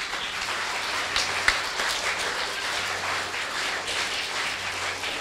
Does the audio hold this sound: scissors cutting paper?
no